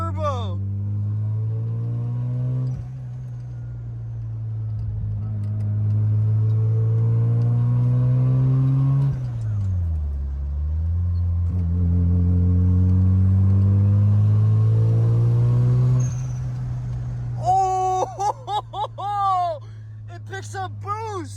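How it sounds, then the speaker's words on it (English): Mazda RX-7 FC with a turbo and catless 3-inch downpipe, its engine droning steadily and rising in pitch as the turbo spools under acceleration, with a brief dip mid-run and sharp revving bursts near the end. "this thing drives amazing and it sounds insane. Listen to the turbo spool."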